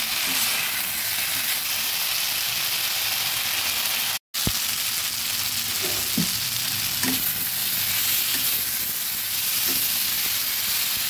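Potatoes and drumstick pieces (sajne data) fry in a pan for a Bengali katla fish curry, a steady sizzle with occasional stirring scrapes and clinks throughout, close and continuous, with one brief dropout partway.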